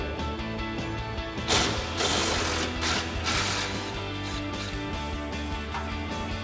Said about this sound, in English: use your 10mm socket and extension on your impact and unbolt it